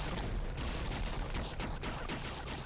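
Dense, continuous gunfire from a VR shooter game, LA2097, a steady wash of rapid shots and bursts with no clear gaps, fairly loud and close throughout.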